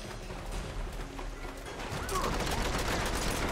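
Gunfire in the video game Uncharted 3: Drake's Deception, a dense rattling fusillade of rapid shots that swells louder midway and keeps going to the end.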